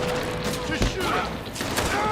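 Chaotic gunfire in Red Dead Redemption 2, a dense crackling fusillade with a thump around the middle, heard beneath shouting voices.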